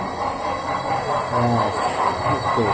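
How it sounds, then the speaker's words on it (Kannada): A train arrives on a railway track toward Dubai, giving a steady rumbling roar with hiss and faint wheel noise, close and continuous, with a person speaking briefly underneath. "ಬಂತು ಟ್ರೈನ್."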